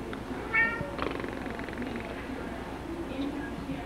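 A cat meows at close range, a short bright call near the start followed by softer murmuring sounds and a faint second meow later, with someone speaking gently over it.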